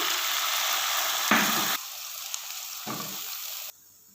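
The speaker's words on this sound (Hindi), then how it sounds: "इसके साथ ही हम थोड़ा सा पानी ऐड करेंगे।" Water pours and splashes into a pot of fried onions in a steady hissing stream, briefly changing tone, then cuts off near the end.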